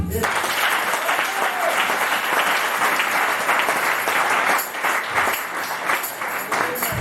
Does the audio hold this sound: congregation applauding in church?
yes